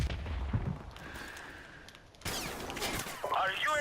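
Gunfire in the Call of Duty video game, a few sharp shots and bursts at moderate distance with ambient game noise, and speech-like sounds breaking in over the second half.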